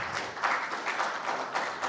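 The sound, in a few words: applause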